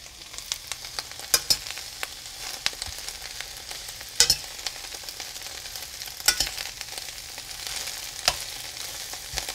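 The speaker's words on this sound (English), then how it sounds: "it doesn't take very long to do a stir fry of greens" Leafy greens with onion and garlic sizzle steadily in a hot stir-fry pan, a continuous close frying hiss broken by periodic clicks and scrapes of stirring.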